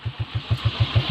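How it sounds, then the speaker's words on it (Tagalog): Motorcycle engine at a farm, close and loud, running with a steady low rhythmic chug of evenly spaced firing pulses, alone with no talk. "maandar pa yung motor ko"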